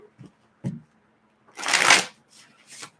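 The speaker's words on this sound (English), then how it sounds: "I'm going to go with 7 shuffles" Cards are shuffled in a quick riffle: a few soft taps, then one loud rushing burst followed by two lighter flutters, close up with no talking.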